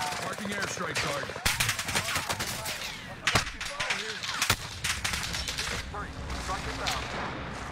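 Gunfire and an airstrike in an online shooter game, with dense rapid shots and several heavy blasts running throughout, loud and continuous, while players talk over the action.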